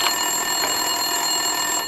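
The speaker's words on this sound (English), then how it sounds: "Winterson's phone was ringing." Office desk telephone ringing in Max Payne 2: a steady, bright electronic trill that continues unbroken and fairly loud, with no voices.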